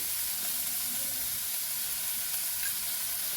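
Tomato and onion frying with turmeric and salt in a pan, a steady hissing sizzle throughout, close and even, with no talking.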